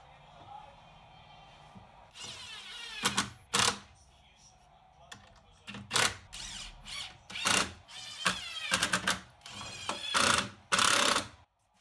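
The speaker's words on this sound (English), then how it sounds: "then screwed the draw runners in place" Power drill driving screws to fix drawer runners in place on a router bit storage tray, with several short loud whirring bursts separated by pauses.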